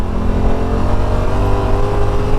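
A 2025 Yamaha RMAX2 Sport side-by-side runs with a steady, loud engine drone and low rumble while being driven, continuous throughout with no talk.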